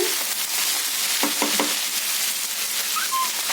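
Okra pieces sizzle steadily in a hot pan while a spoon scrapes and stirs a few times; a brief high squeak near the end.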